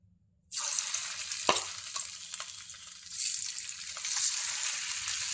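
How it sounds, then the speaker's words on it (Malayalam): After a brief silence, a loud burst of sizzling erupts as prawns hit hot oil, then continues as a steady, crackling fry. "നമുക്കിനി ഇത് തിളച്ച എണ്ണയിലിട്ട് പൊരിച്ചെടുക്കാം"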